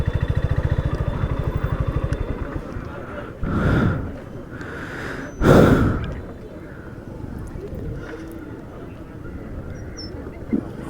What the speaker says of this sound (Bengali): ছোট বাইক নিয়ে আসতেছে।